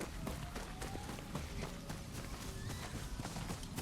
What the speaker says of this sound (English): The hell is this horse?